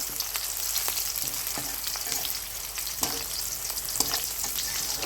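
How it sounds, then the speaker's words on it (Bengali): Whole cinnamon sticks frying in hot oil for a chicken dish, a steady close crackling sizzle with scattered sharp pops and a few stirring taps, with no voices. "এর মধ্যে আস্ত কয়েকটা দারচিনি দিয়ে দিলাম"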